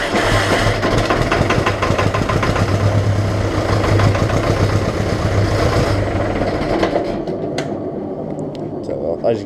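A Fordson diesel tractor engine idles just after a cold start, a loud, steady knocking chug that runs for several seconds and then stops, leaving clattering sounds and a faint background.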